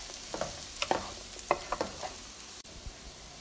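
Daikon radish is stir-fried in a pan: soft, close scrapes and taps of a spatula come in short bursts over a faint, quiet sizzle.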